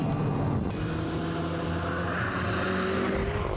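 A steady engine roar rising slightly in pitch as the car accelerates, continuous and fairly close throughout.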